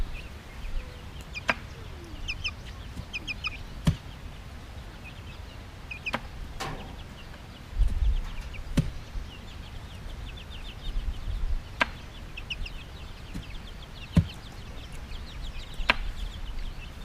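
Chickens cluck softly and intermittently in a spring garden, scattered mid-distance calls against an outdoor background broken by sharp knocks and thuds.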